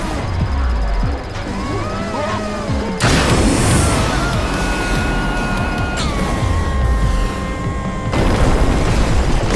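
A structure collapsing in the Screamride video game, with repeated heavy booms and crashing debris in several abrupt bursts, loud and close, set against game tones and effects.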